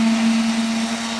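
A Bush brand kitchen blender runs steadily with a loud, even motor hum and whirring, grinding rice into flour, continuous for the whole moment with no talking.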